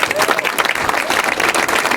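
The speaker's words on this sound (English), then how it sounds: "So maybe a round of applause to them." Crowd applause at a football club's stadium commemoration event, a loud, dense clatter of many hands clapping close by, with voices mixed in beneath it.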